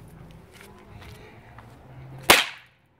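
After quiet shuffling, one sharp, loud snap of an Aero Fireworks fuseless firecracker cracks nearby and quickly fades.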